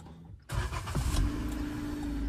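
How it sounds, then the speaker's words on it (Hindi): A car engine cranks and catches about half a second in, then settles into a steady, loud, close idle rumble. "स्टार्ट हो चुकी अपन गाड़ी भाई,"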